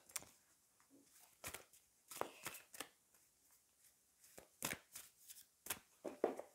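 Tarot cards being shuffled and drawn from a deck, soft quiet riffles and sharp card snaps in irregular bursts, close and faint with no talk.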